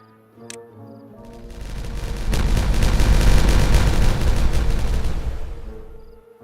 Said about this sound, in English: Nice big explosion, everybody!